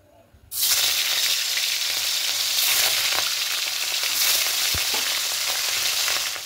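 Katla fish drops into smoking-hot mustard oil and bursts into a loud, close, continuous sizzle that holds steady until the end, with only faint crackles on top.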